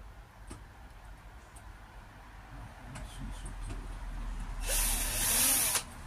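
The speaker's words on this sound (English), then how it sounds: "I'm going to drill all the holes I need," A power drill whirs and grinds into the metal door of an Arondes Plein Ciel car, building up over a few seconds into a loud, high-pitched screech before cutting off.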